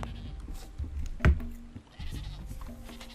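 Goats bleat in the Dawn of Man survival video game, with one sharp, loud bleat standing out over a steady low background hum of the game's ambience.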